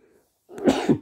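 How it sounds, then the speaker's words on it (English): A single short sneeze bursts out, close and fairly loud, after a brief quiet moment. "I need to sneeze"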